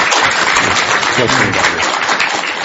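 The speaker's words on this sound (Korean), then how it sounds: "백창호 원장님께 뜨거운 박수 한번 부탁드리겠습니다." Loud, dense clapping fills a Korean Buddhist broadcast studio as an audience applauds a guest, steady and close throughout, with a brief spoken word over it.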